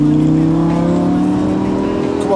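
A Lamborghini Gallardo LP560 with air suspension accelerates, its engine giving a loud, steady rising drone from inside the car over a few seconds.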